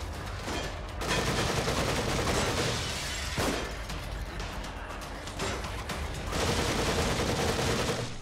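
Enemy gunfire in The Evil Within, repeated heavy bursts of shots with sharp transients, loud and close, separated by brief lulls.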